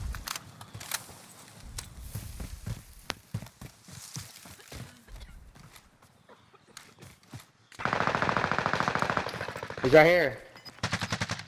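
Gunfire in Call of Duty: Modern Warfare, with scattered single shots early and then a dense, loud automatic burst near the end, while voices speak between shots.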